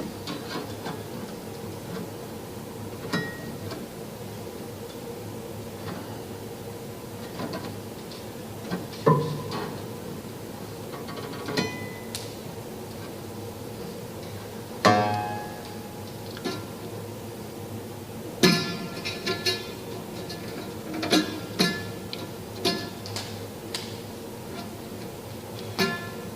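A piano prepared in the style of John Cage gives dry, percussive knocks and muted plucks like a small drum kit. The strikes are sparse and irregular, fairly quiet, with no voices.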